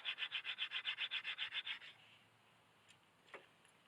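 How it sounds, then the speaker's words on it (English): New brake pads are rubbed to smooth their rough edges: about a dozen quick, rhythmic scraping strokes up close, then they stop and leave a few faint clicks in a quiet room. "Give them a rub to get the rough edges off."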